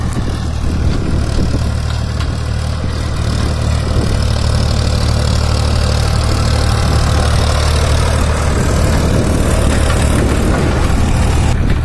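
A Powertrac 439 Euro tractor engine idles loudly and steadily, a deep constant rumble close by with no voices.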